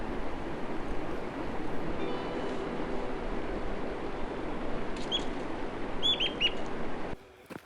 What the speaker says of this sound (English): I was coming across a bunch of chickadees within the forest